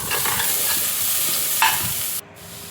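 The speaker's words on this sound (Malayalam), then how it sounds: "അതിലേക്ക് നമ്മൾ അരിഞ്ഞ് വെച്ചിരിക്കുന്ന സവാള, ഒരു വലിയ സവാള അരിഞ്ഞതാണ്, അത് ആദ്യം ഇട്ട് കൊടുത്ത് അതൊന്ന് വഴണ്ട് വരുമ്പോൾ" A large chopped onion sautés in a pan, giving a close, steady sizzle with spoon-stirring scrapes and clinks, a brief louder scrape, and a slight drop in level near the end. No one speaks.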